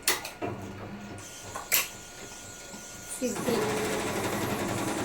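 A computerized embroidery machine stitches a blouse with rapid mechanical whirring that becomes steady and louder in the second half, after a few clicks and knocks. Someone speaks in the clip.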